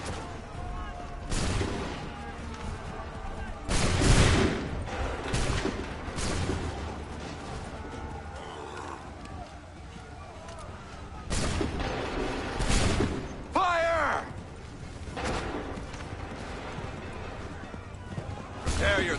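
Musket volleys in the Assassin's Creed video game, set in the American Revolution with Connor: several heavy, booming bursts of massed fire spaced several seconds apart, each followed by a rolling tail over ongoing battle noise.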